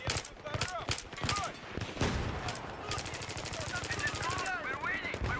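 Machine gun fire in Battlefield 3, with rapid bursts of sharp, dense shots, some nearer and some farther off, running continuously through the clip with voices underneath.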